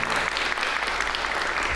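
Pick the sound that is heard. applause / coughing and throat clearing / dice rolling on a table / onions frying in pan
applause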